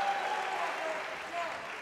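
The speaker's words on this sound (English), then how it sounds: "Great to hear the applause of appreciation for the technicalities of this contest." Applause from the crowd at a heavyweight mixed martial arts bout, a brief, fairly faint patter of clapping that holds steady for under two seconds.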